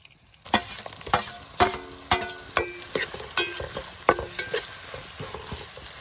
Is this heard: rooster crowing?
no